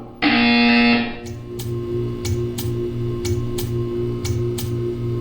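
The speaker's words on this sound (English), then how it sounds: "You will hear a buzzer. When you hear the buzzer, stare at the art." A loud, sustained buzzer from a Portal 2 test chamber blares for about a second, then gives way to a steady hum with a regular series of sharp ticks.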